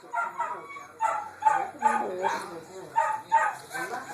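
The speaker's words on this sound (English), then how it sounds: "What a silly dog." A dog that was lying on someone's leg gives short barks and whimpering yips in an uneven run of bursts, close by, with people talking over it.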